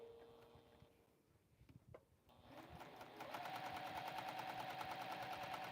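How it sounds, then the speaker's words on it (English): A Juki sewing machine stitches a large quilt, starting after a few quiet clicks and settling into a fast, steady, rhythmic mechanical chatter nearby, fairly faint overall. "We're sewing, yay!"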